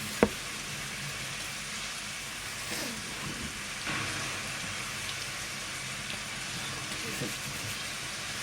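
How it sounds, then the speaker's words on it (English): Relaxing rain sounds play from a phone app as a soft, steady hiss with faint patter, a sharp click near the start and a few dull thumps scattered through. "I realised I was going to have to turn to my relaxing rain sounds app"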